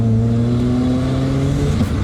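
A turbocharged 4.0L Intech six in a budget drift car revs loudly and steadily at full throttle, then stumbles and cuts out near the end.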